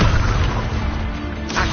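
Incendio and Expelliarmus spell effects fire in a Hogwarts video game as a loud, dense rumble of magical blasts and crashes, with a fresh burst near the end.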